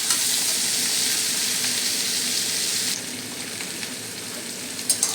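Vegetable stalks fry for data chorchori with a loud, continuous sizzle that softens slightly partway through, ending with a couple of light stirring knocks.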